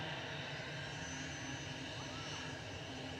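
Ryanair jet airliner at Manchester Airport, a faint, steady distant engine roar held at an even level for a few seconds, no talking heard.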